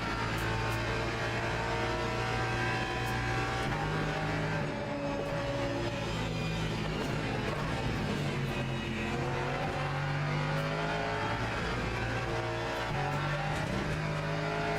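A GT3 or LMP2 race car engine screams continuously in the Le Mans Ultimate racing game, rising through the revs with upshifts, tire noise mixed in, loud and steady throughout.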